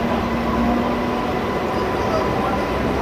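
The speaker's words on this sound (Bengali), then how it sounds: "সাঁতরাগাছি থেকে 5 মিনিট লেট করে ছাড়লো আমাদের ট্রেন।" A fairly empty Santragachi–Jhargram MEMU commuter train runs along with a steady, close rumble of wheels and carriage noise inside the coach, continuous and even.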